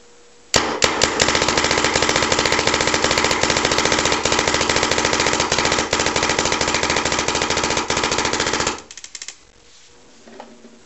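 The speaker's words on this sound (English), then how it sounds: "going to be shooting about 120 reballs. They're pretty old, pretty dirty, as you can see here. And of course, we're shooting at PSP ramping 15 BPS" A Tippmann 98 paintball marker on PSP ramping fires old, dirty reballs at 15 balls per second through an Empire Prophecy loader. The shots come as a loud, rapid, unbroken mechanical burst for about eight seconds, then stop abruptly, followed by a few faint rattles.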